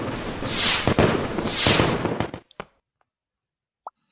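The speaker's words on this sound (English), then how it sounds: "Can you start us off with some fireworks?" Fireworks sound effect played by a DJ to open a live event: a roughly two-second burst of crackling explosions with sharp pops, then a few scattered bangs trailing off into silence.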